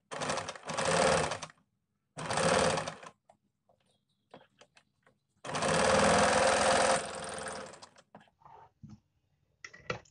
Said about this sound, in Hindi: अब हम इस तरह से लाइन को पकड़ते हुए इसमें एक पैर की सिलाई लगा लेंगे